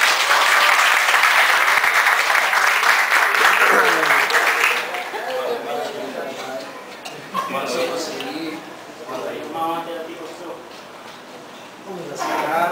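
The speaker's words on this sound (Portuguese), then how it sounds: "uma salva de palmas para o nosso entrevistado" Studio audience applause for an interviewee on a business-ethics talk show, loud dense clapping for about five seconds that then breaks off as a presenter starts talking.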